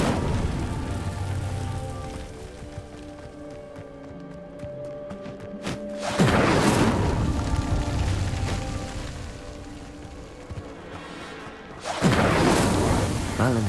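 The Incendio fire spell cast in Hogwarts Legacy erupts as two sharp whooshing blasts several seconds apart, each flaring loudly before fading over a crackling ambient bed.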